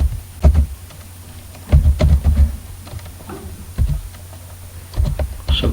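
Keys tapped on a computer keyboard while entering an Excel formula, close and fairly loud, in irregular bursts of quick clicks separated by short pauses.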